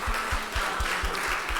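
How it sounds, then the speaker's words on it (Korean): A church congregation claps in a rhythmic burst of applause after a completion certificate is presented during a service, the beats steady and fairly close with no talk over them. "자, 박수."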